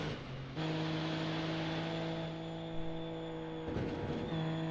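A Super Formula Lights open-wheel race car engine at Mosport in the iRacing simulator, a steady high whining drone that holds pitch, briefly shifting at a gear change, heard alone without commentary.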